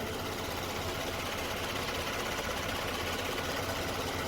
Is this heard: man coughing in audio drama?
no